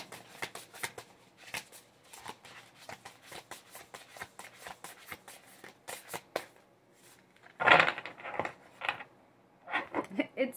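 Tarot cards being shuffled by hand, then one card pulled from the deck: a run of quick crisp riffling flicks, a louder snap near the end, then a few soft taps, close and clear without talk.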